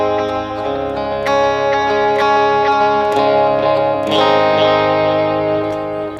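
An electric guitar plays a sustained chord pattern for a song, its notes trailing into repeating echoes from a delay effect, continuous and fairly loud with no talking.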